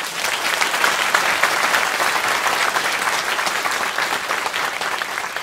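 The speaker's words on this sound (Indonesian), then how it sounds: "saya minta teman-teman tepuk tangan untuk beliau" Steady, even audience applause from a gathering at an Islamic talk, many hands clapping densely and continuously at a fairly close, moderate level.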